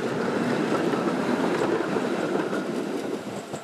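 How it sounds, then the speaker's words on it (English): A tram ride gives a continuous, fairly loud rolling rumble with faint rail rattle that holds steady throughout and eases slightly at the end. "learning is possible everywhere, even on the tram."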